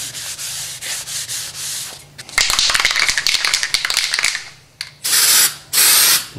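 A cloth rubs and wipes across a bare metal surface with PPG Acrylic-Clean wax and grease remover, giving close, scratchy strokes in bursts with brief pauses between them.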